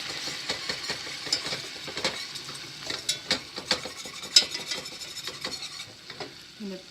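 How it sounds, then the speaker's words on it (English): Flour is whisked into a pot pie base over medium-high heat, a quick run of close scraping and rubbing strokes against the pot, each one soft but distinct, with no talking. "whisk that in"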